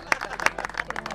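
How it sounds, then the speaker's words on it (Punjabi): An audience at an informal outdoor music gathering claps in a brief, uneven patter of several hands, a short burst of applause. "ਕਰੀ ਤਾੜੀਆਂ ਮਾਰੋ"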